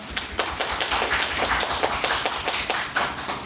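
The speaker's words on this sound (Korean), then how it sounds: "박수 괜찮아요" At the curtain call of the stage play Herzklang, a theater audience claps steadily in a dense, continuous round of applause that stays even and full throughout, with no voices over it.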